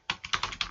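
Rapid light clicks of a computer keyboard being typed on at close range, about six quick keystrokes in an uneven burst with no voices.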